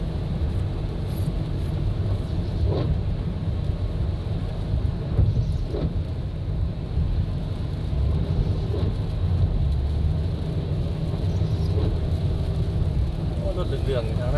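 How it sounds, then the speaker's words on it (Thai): Evening traffic on a rainy suburban street in Vientiane, with steady rain noise and a continuous low rumble of passing vehicles close by, and occasional heavier swells as cars go past. "การสัญจรในเวียงจันทน์เมื่อฝนตก"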